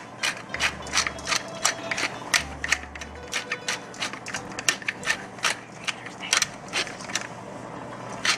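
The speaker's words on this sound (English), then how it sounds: "And we're going to add some black pepper." A pepper mill grinds black pepper into a meatball mix, giving a steady series of close, crisp ratcheting clicks in quick twists with brief pauses, alone without talk.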